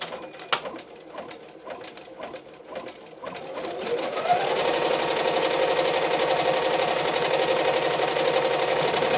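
Brother EM1010 embroidery machine stitching a left chest logo, a steady rapid mechanical chatter that starts with separate clicks and settles into a loud continuous whir close by, with no talking.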